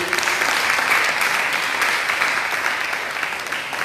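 A church congregation claps in sustained, dense applause throughout, loud and close, with no break.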